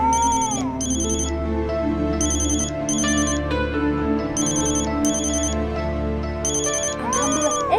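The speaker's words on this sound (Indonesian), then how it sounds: "ibu telepon nih, ibu telepon nih" A phone plays a ringtone for an incoming call, repeating in loud, evenly spaced bursts of bright tones over a steady low background.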